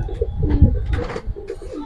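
A silver pigeon of the old Giribaz line coos nearby in a low, throaty, repeated rhythm, with a few faint extra bird calls and no talk.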